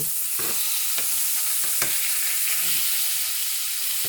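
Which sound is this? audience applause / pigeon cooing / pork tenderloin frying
pork tenderloin frying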